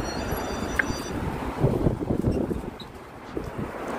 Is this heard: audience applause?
no